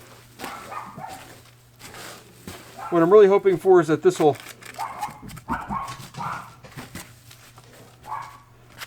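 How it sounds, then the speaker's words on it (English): A dog barks excitedly indoors at something outside, a quick burst of loud barks in the middle with softer yips and whimpers around it, mixed with a person talking throughout. "Sorry, my dog sees something outside."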